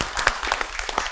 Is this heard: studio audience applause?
yes